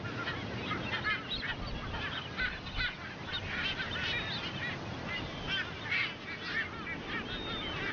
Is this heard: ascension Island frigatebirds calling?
yes